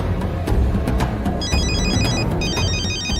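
A telephone rings in a tense Telugu action film scene, its bright electronic trill repeating in short bursts over a dense, rumbling background score.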